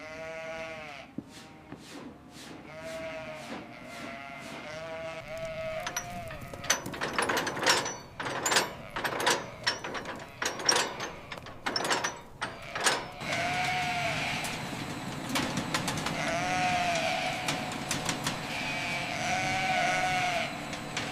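Sheep bleat repeatedly on a farm, several overlapping calls close and loud, mixed with rattling clanks and knocks of gates or pens that come in a busy cluster midway, then the bleating continues.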